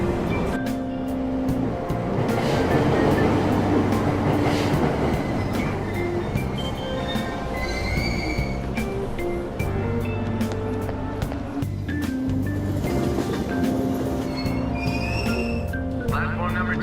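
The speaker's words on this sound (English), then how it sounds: "Train doors are now closing. Please stand back." A subway train pulls away from the station in Persona 5 Royal, with steady rolling rumble, brief squeals and chimes, and an announcement voice speaking over the noise.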